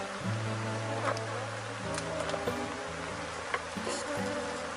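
Africanized honey bees hum steadily around a hive, a low continuous drone with a few louder passes, over faint outdoor background noise.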